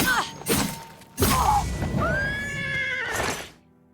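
A horse in the video game Elder Scrolls: Oblivion neighs loudly and close, with a long whinny among thumps and impacts.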